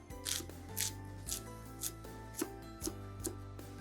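Kale leaves rolled into a tight bundle are sliced across with a knife on a cutting board, giving a steady series of about eight crisp, close chops spaced roughly half a second apart, with no talking.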